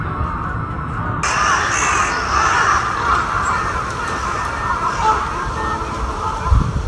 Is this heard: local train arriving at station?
no